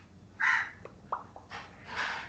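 A crow caws several times nearby, harsh calls spaced across a couple of seconds with short gaps, loudest at the start and end, heard outdoors with no talking.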